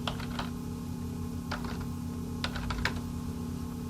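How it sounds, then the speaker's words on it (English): Typing on a computer keyboard while working in AutoCAD: several quick bursts of soft key clicks, close and faint, over a constant low electrical hum. "I'm going to type viewport again"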